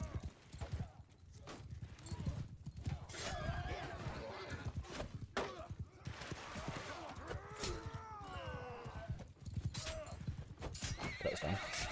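Horses gallop with rapid clip-clop hoofbeats and repeated loud neighs and whinnies during a large online multiplayer video game battle of around 200 players, with busy combat noise and occasional voices underneath.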